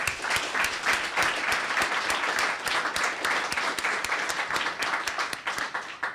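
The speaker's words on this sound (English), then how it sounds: "a big shout out and a round of applause for the Mayor's Youth Council" A crowd at a Boston civic event for a bike-share expansion applauds steadily and loudly, with dense overlapping claps and sharp individual hand slaps sustained throughout.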